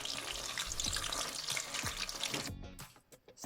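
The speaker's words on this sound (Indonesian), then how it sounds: "kita goreng dalam keadaan utuh seperti ini ya, hingga matang, hingga kulitnya mengering" Whole Hekeng chicken and shrimp rolls wrapped in tofu skin frying in hot oil, giving a continuous crackling sizzle with a few soft low knocks. The sound thins out and fades near the end.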